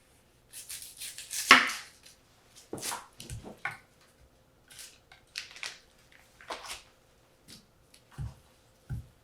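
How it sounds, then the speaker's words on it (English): A knife chops an onion on a cutting board in a home kitchen, giving a series of irregular, close, crisp thuds and slices with short pauses between strokes. "we are going to chop the onion up and we're going to saute it in the pan"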